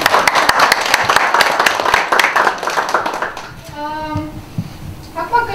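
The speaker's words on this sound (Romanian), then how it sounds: "Sincer, cred că merită toată lumea aplauze." Audience at a small-business funding event bursts into dense clapping that carries for about three seconds, then fades out as a few voices and some music-like tones take over.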